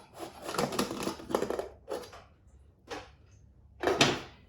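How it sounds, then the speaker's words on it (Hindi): A pressure cooker lid is worked open in a home kitchen: a series of short metallic clatters and scrapes in irregular bursts, fairly close, with some louder knocks near the end. "अब यहाँ पे इसका ढक्कन खोलेंगे।"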